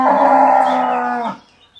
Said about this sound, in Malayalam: പശു അതിന്റെ അമർച്ചയായിരിക്കും.